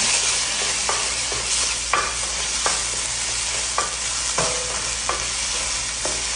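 A spoon stirs tomato paste through a frying garlic mixture in a pan, loud constant sizzle with rhythmic scraping strokes about once a second, no talking.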